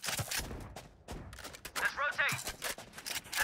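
Quick bursts of gunfire crackle in short rapid volleys in Valorant, mixed with other game sounds at low volume.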